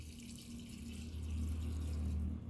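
Water is poured into a jar for making amla wine, a faint, steady rushing stream with a low hum underneath, running alone the whole time.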